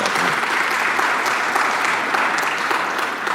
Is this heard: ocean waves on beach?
no